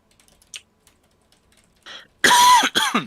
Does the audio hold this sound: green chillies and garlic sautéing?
no